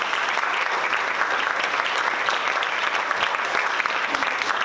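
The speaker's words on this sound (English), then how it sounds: "So I'm going to ask you to give him a round of applause." Awards ceremony audience giving a round of applause for an artist's husband, a dense, even, sustained clapping from a large crowd throughout.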